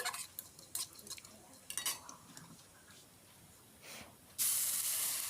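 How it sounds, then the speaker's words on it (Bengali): Ajwain and asafoetida tempering fry in oil in a wok over a low flame, with scattered metallic clinks and soft crackles, then a sudden loud, steady sizzling hiss near the end. "তাতে হাতে ঘষে নেওয়া জোয়ান দিয়ে দিচ্ছি আর দিয়ে দিচ্ছি হিং ফোড়নগুলো একটু হালকা আঁচে ভেজে নিচ্ছি"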